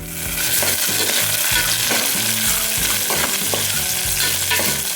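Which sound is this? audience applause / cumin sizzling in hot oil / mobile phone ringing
cumin sizzling in hot oil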